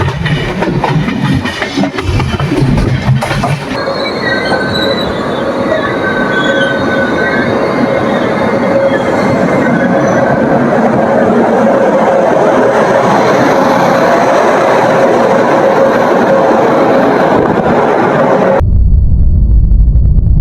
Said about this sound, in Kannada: ನೋಡು, ಟ್ರೈನ್ ಬಂದಿದೆ ಇವಾಗ ಸೇಲಂ ಜಂಕ್ಷನ್ಗೆ.